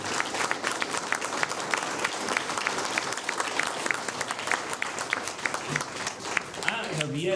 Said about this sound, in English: Let's give the teachers an applause.